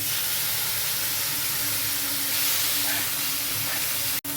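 Vegetables for Bengali shukto fry in a pan, giving a loud, close, continuous sizzle and hiss with small crackles, briefly cut off near the end.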